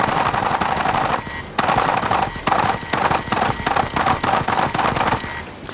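A Provolver Elite VR gunstock fires its recoil mechanism in loud, rapid mechanical bursts, close to the microphone, like a rattling machine gun with brief pauses between volleys.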